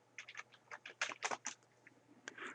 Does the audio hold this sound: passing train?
no